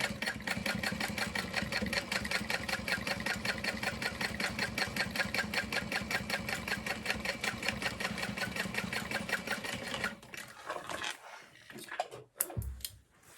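A sewing machine runs a second line of stitching on a crossbody bag, a loud rapid even chatter for about ten seconds, then it stops and a few handling clicks follow.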